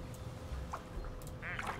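A plastic toy duck in Placid Plastic Duck Simulator gives a couple of short quacks, one near the middle and a brighter one near the end, over a steady low hum.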